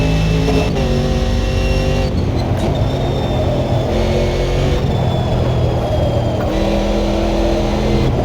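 A race car engine roars in a racing video game, loud and continuous, with gear shifts and repeated rises in pitch as it accelerates hard through corners and down straights, and no talk.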